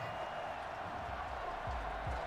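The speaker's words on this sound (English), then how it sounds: "this crowd does not like that call" A football stadium crowd reacts against a roughing-the-passer penalty during a Steelers versus Bengals game, a steady, distant wash of booing and murmuring that fills the whole stretch.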